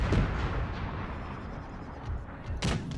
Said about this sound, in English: We have firing starting over there.